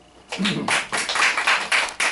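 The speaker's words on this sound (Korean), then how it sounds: "박수" A church congregation claps in short, rhythmic bursts during a Korean sermon. The clapping comes in quick, close groups of moderate loudness, and it begins after a brief quiet start.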